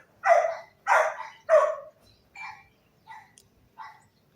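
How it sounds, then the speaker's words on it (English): A small dog barks somewhere outdoors on a Philippine street: three louder yaps close together, then three fainter, evenly spaced barks, with no talk over them. "Oh, there's another little dog barking somewhere."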